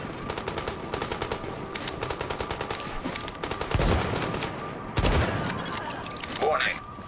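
Sustained automatic gunfire in the video game Tom Clancy's The Division, rapid bursts of shots rattling continuously with a couple of heavier blasts near the end, loud and close.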